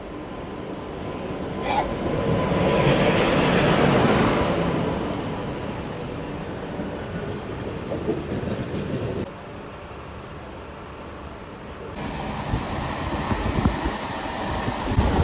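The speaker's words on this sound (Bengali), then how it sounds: "এখন ট্রেন ঢুকছে বাংরিপুসি পুরী সুপারফাস্ট এক্সপ্রেস।" The Bangriposi Puri Superfast Express rolls into a station, a loud rumbling rush of carriages and wind that swells, eases and then surges again with rattling wheels over the track.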